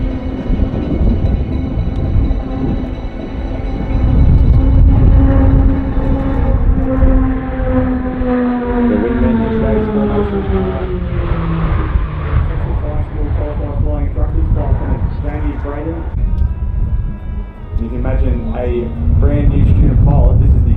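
Pilatus PC-21 aircraft pass by at the Avalon Airshow 2019, a loud engine drone sweeping down in pitch as they fly past, heard under a public-address announcer and crowd noise.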